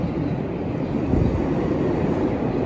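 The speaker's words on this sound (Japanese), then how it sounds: "ホームに電車がやってきそうなのでそちらをね見たいと思います" Train pulling into a station platform, a steady broad rumble and rolling hiss that holds at a constant level throughout, with no voices.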